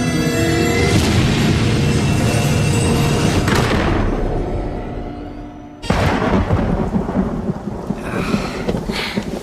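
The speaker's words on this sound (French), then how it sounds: "Ah la vache, il y a plein d'éclairs." A thunderstorm with heavy rain hissing steadily as a long, rolling rumble of thunder fades out, then a fresh loud crack of thunder bursts in and rumbles on.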